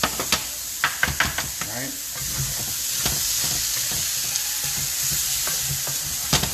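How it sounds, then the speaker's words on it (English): Fried onions for chicken cheesesteaks hit a hot griddle with a few sharp knocks of a spatula, then settle into a loud continuous sizzle with occasional scrapes; a voice speaks briefly. "So I'm going to throw your fried onions in there like that"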